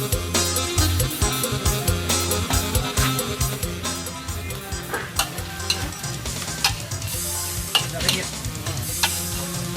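Field rat meat is stir-fried with seasoning for a spicy Thai dish: a loud, busy sizzle with rhythmic scraping and tossing stirs over a steady tonal background.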